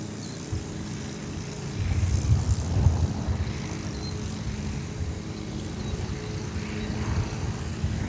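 Jet aircraft taxiing on the ground at DFW Airport toward International Terminal D, a steady low engine rumble that swells slightly midway and continues without talk.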